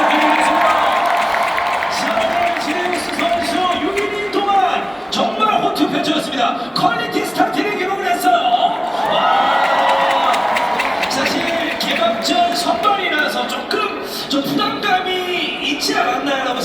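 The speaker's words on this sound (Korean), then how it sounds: "야, 박수!" Crowd at a Korean baseball stadium on opening day, LG Twins against Lotte, cheering and applauding loudly and continuously, with whoops, shouts and a voice or two poking through the roar.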